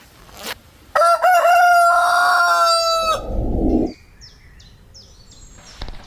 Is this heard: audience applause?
no